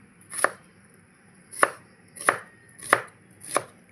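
Onion is chopped with a knife on a board, five crisp, isolated chops spaced about a second apart, close and clear in a quiet room with no talking.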